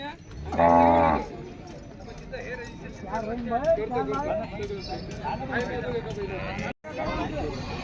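A bull lets out a loud, low moo near the start at a livestock exhibition, followed by people talking over farmyard background noise.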